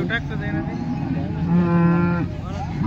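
A cow moos loudly and close by at a busy Modnimb livestock market, a long drawn-out low call with a rising tail, over a steady murmur of crowd noise.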